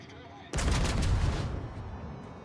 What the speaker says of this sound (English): Just shoot the HE, try and get the fires